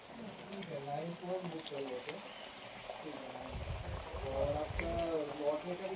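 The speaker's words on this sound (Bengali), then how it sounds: "গুড় আর তেঁতুল গোলা জলে এটা টকটা ফুটছে" Sour water of tamarind and jaggery bubbling in a pot over a clay oven, a soft steady simmer with low gurgles beneath a voice talking nearby.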